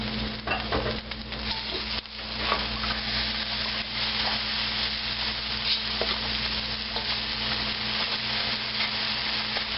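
Eggs frying in a non-stick wok, a steady close sizzle with scraping and stirring from turners throughout, no voices.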